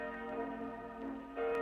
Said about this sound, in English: Ring the alarm bell